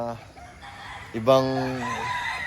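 A rooster crows once nearby, a loud drawn-out call rising then trailing off, with faint background noise and no talking.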